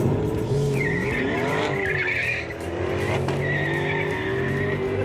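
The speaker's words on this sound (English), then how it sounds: "Spinning the tires, no!" Tires squeal and skid as a race car spins its wheels, high screeching bursts over a loud revving engine that dips briefly midway before surging again.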